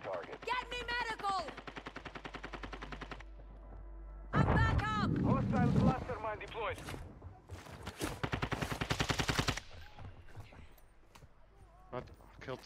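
Rapid gunfire bursts in the extraction shooter DMZ, coming in repeated loud volleys with gaps between them, mixed with game sound effects and players talking over the shots.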